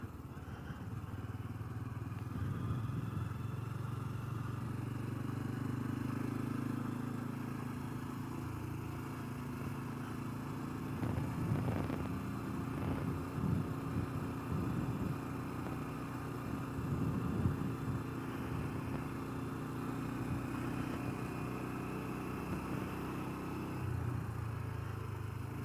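A Honda Trail 125 motorcycle ridden around a lakeside area, its small single-cylinder engine droning steadily and close for the whole stretch, with shifting revs and occasional clattering bumps as it rolls along.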